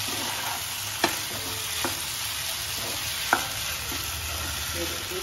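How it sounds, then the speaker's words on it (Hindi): Sabudana khichdi stirred in a pan with a soft steady sizzle underneath and a few sharp spoon clinks against the pan, quiet and close, with no talk. "इसको अराउंड 1 मिनट अच्छे से मिक्स करके"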